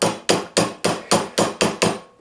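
Eight sharp hammer blows drive tacks against an anvil to crimp them, loud, close and evenly paced, each with a short metallic ring.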